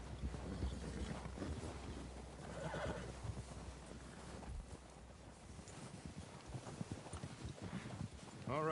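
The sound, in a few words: horse hooves clip-clopping in a video game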